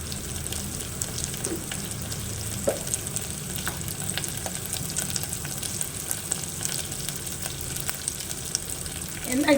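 Chopped onions frying in a pan for a ponnaganti greens curry, giving a continuous, even sizzle with faint crackles and occasional light stirring scrapes, near and steady for nearly ten seconds.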